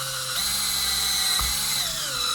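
Step drill bit cutting a roughly 10 mm hole in a box for an antenna build, a continuous close whine whose pitch shifts as the bit bites, with no speech.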